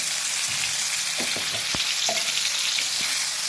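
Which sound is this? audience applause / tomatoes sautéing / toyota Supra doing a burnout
tomatoes sautéing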